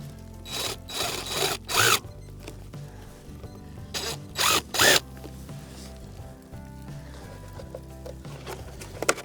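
A drill drives screws into a gutter during an install in rain, sleet and snow: two groups of short, loud whirring bursts, separated by a few seconds of quieter background.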